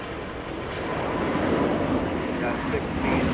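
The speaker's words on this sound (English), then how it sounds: "Scandinavian A350 900 lifting off." A Scandinavian Airlines Airbus A350-900 takes off from a large airport with a broad, steady jet roar that builds slightly. The roar is heard from a distance and stays fairly loud.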